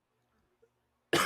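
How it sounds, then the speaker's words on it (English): A single sharp, loud cough bursts out abruptly after near silence, close to the microphone during a gaming news podcast. "sorry, hold on, I got a cough."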